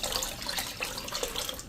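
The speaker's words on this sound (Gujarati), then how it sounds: "તો હજી 1 કપ આપણે આમાં પાણી નાખી દેશું।" Water runs in a short, quiet trickle into a pot of kadhi batter made from gram flour and yogurt, a soft continuous splashing pour heard alone.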